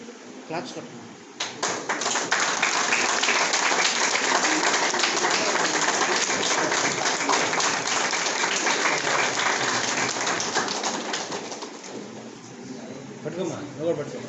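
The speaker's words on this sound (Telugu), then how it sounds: "క్లాప్స్ కొట్టు." A crowd applauds at a college event celebrating first-semester exam results. Dense, loud clapping starts after a moment, holds steady for about ten seconds and then tapers, with voices around it.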